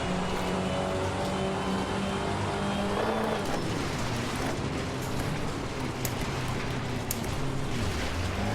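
Front-wheel-drive rally car in Richard Burns Rally, its engine holding a steady drone under gravel and road noise, then shifting character midway as the revs and surface change.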